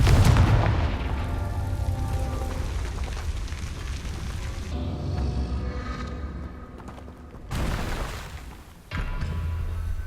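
Confringo fire-blast spells burst in Hogwarts Legacy, a heavy booming blast up front followed by rumbling fiery crackle, with another sharp impact near the end over a steady game background.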